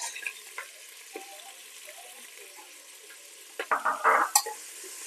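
Chopped onions drop into hot oil in a pan, giving a soft, quiet frying hiss with a few louder crackling spurts near the end.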